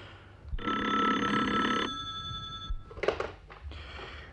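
Telephone ringing in a Turkish radio drama, one bright metallic bell ring of about a second and a half, followed by short clattering handling sounds, no talk.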